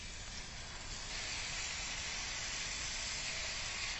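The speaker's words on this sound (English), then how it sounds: "I've got my pan heated back up. As you can tell, it's sizzling a little bit." Steady, dense sizzling hiss from a hot pan, continuous and fairly close, with no talking, just before diced tomatoes and beef broth are added.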